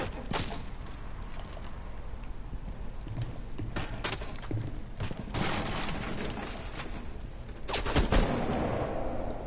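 Repeated gunshots from Blackbeard's powerful gun in a first-person shooter game, sharp bursts spread across the clip with a louder volley near the end over continuous game ambience.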